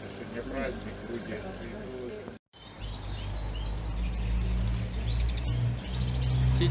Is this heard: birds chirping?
yes